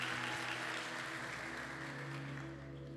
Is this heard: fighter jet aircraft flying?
no